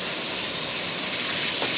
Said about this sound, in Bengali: আর এই বেগুন ভাজছি।